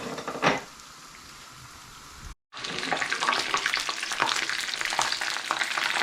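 Lumpiang Shanghai spring rolls sizzle steadily in hot cooking oil, a dense, continuous crackle broken by one brief cut, with no talking.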